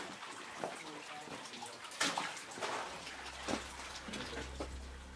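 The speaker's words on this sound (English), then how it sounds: "And the water just continues down around the corner here." Water running around a corner inside an underground cave, a continuous splashing flow with small bursts and drips, close and moderately loud, with a low rumble building toward the end.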